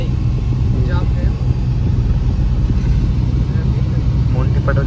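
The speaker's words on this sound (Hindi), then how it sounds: "ट्रैफिक ही बहुत है भाई, जाम है।" Heavy road traffic stuck in a jam gives a loud, unbroken low rumble of idling engines close by, with faint horn-like tones rising now and then and people talking over it.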